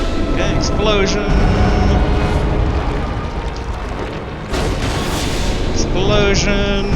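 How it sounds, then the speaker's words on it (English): Explosions in the video game Bloodborne, a loud sustained rumbling blast with a sharp burst near the middle, set among dense game effects and music while someone talks over it. "Okay, explosion."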